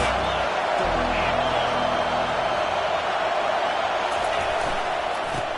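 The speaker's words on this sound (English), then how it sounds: "This crowd trying to make life miserable for this offense." A football stadium crowd roars in a broad, steady wash of noise at a college game between the Irish and the Nittany Lions, a voice speaking over it.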